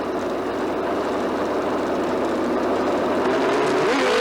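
A drag racing motorcycle screams at sustained high revs on the start line at Edgewater Sports Park, Cincinnati, its roar steady and harsh, then climbing sharply in pitch near the end at launch.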